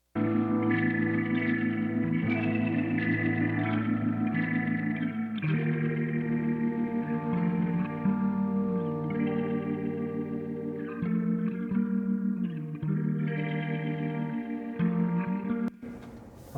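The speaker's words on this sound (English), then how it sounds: "So let's hear these two strange guitar parts." Two layered electric guitar parts carrying chorus, distortion and echo effects play together in a rock mix, sustained and dense throughout with a brief dip near the end.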